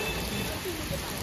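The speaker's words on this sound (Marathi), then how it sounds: "एकदम जून जुलै सारखा पाऊस पडतोय" Heavy monsoon rain pours down steadily outdoors, a dense continuous hiss of falling water filling the whole short stretch with no break or change in intensity.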